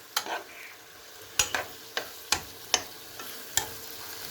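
Leeks being stirred in a pan, a spoon scraping and tapping the pan in about eight sharp, irregular knocks over a soft, quiet sizzle.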